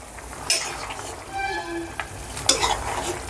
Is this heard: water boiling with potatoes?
yes